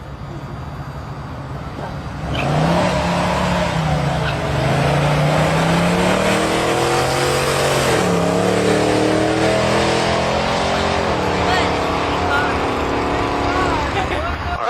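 Chevrolet Chevelle drag cars launch and accelerate hard down the strip in a first-round elimination pair, a loud sustained engine roar rising through the gears, with crowd and announcer voices faintly beneath.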